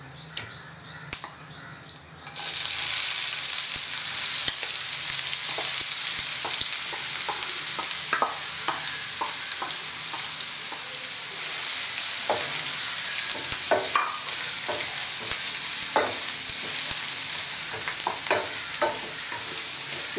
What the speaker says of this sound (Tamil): இந்த வெங்காயம் நல்லா ஃப்ரை ஆகிற வரைக்கும் இதை நல்லா இப்படி மிக்ஸ் பண்ணி நல்லா ப்ரௌனிஷ் ஆகிற வரைக்கும் இதை வதக்கணும்.